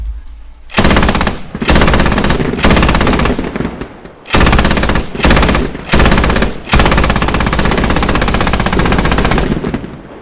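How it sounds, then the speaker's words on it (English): Anti-aircraft cannon in the video game Squad firing high-explosive rounds in loud sustained bursts, several long strings of rapid automatic shots separated by brief pauses, close and dominant. "This is an anti-aircraft cannon."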